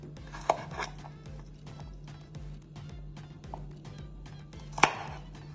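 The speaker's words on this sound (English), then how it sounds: "So I'm just going to cut that. Cut it like that. No specific way of cutting the garlic." A knife chops fresh garlic cloves on a board while a jerk marinade seasoning is prepared, giving a few sharp cutting taps, two of them louder, over a low steady hum in a kitchen.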